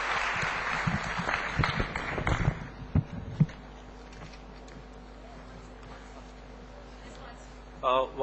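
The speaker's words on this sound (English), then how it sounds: "I would like everybody to put up applause to all the panelists who have contributed and given good insights about the commodity markets" Audience at an investment outlook panel applauds the panelists, a short burst of clapping that quickly dies away into scattered knocks and quiet room noise.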